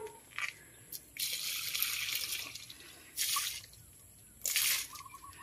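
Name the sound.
watering plants, water dripping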